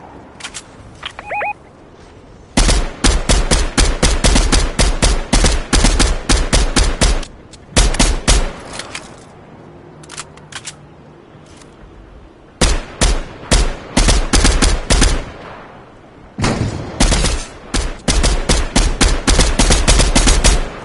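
Rapid bursts of gunfire in a PS4 shooter, including sniper play, with dense automatic volleys broken by short pauses, loud and close throughout with no voices.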